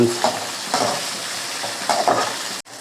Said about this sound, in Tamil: புதினா போட்டு நல்லா கிண்டி விட்டுக்கலாம்